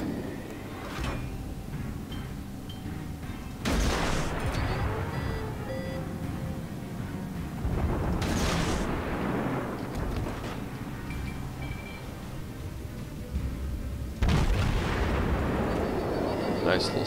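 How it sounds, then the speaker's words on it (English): Naval gun salvos from the cruiser Tenryu in World of Warships, heavy booming blasts repeating about every four to five seconds over a constant rumbling battle bed. "Nice little salvo"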